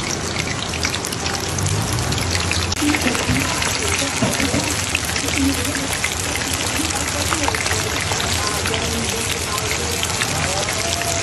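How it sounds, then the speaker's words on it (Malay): Rain falls steadily outside during home cooking, a continuous hiss of drops on surfaces with trickling water, while a voice talks over it. "Hujan-hujan je ni pula."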